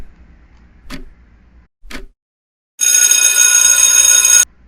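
Electronic countdown timer for a classroom math problem: two short ticks or beeps, then a loud, sustained ringing alarm tone lasting about two seconds, alone with no talk.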